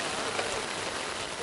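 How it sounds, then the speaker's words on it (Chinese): Heavy rain pours steadily during construction of a tall tower in a village, a dense even hiss that stays constant and fairly loud throughout with no pauses. "大家都在與大雨對抗着"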